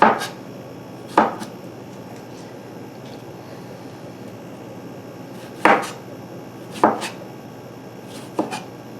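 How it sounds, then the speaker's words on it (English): Knife slicing fruit for a fruit salad on a board, four or five sharp separate chops spaced irregularly over a quiet, faintly humming background, close and alone. "So let's go ahead and slice those."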